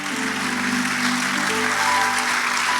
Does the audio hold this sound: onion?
no